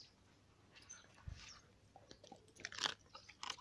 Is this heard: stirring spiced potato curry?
no